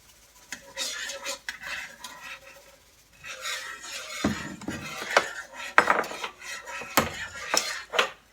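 A spoon stirs thickener into gravy in a metal pot, scraping and clinking against the sides in irregular bursts, loud and close, with a brief pause before the stirring resumes more vigorously.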